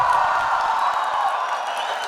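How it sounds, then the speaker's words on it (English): A crowd at an inspirational sports talk with a former Indian cricketer and coach keeps up a dense, loud wash of applause and cheering, steady throughout without a break. "Big round of applause."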